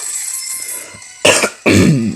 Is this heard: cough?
yes